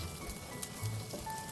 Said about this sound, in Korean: 멸치에 오일이 코팅이 되었을 때 썰어 놓은 마늘을 같이 볶아줄게요.